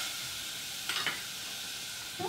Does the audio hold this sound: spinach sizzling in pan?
yes